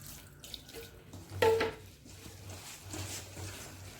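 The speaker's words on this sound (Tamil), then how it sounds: "நல்லா தண்ணி" Water poured into finger millet dough in a kitchen bowl, a short splashing burst in the middle followed by soft wet sloshing, quiet and close with no talking.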